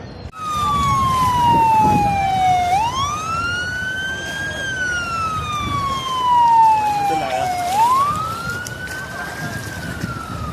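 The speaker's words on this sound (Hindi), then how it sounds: "ये देखिए, अभी सायरन बज रहा है" A police siren wails in long rising and falling sweeps at a beach on the Jizan seafront, loud and continuous, over faint background noise and distant voices.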